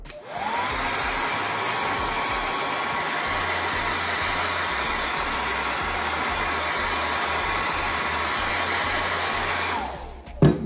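A hair dryer blows steadily on wet paint, a loud, even whoosh that runs alone for about ten seconds before it cuts off with a brief clunk.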